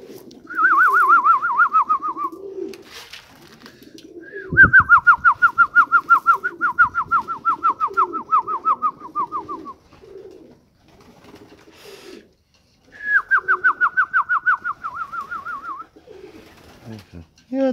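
Armenian tumbler pigeons coo softly and low throughout in winter. Loud, rapid trilling calls come in three long descending bursts over them.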